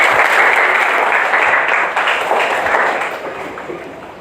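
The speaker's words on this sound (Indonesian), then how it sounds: "tepuk tangan semuanya." A classroom of students in a teaching session claps together in a dense, loud burst of applause that stays steady, then slowly tapers off over about four seconds, with no talking over it.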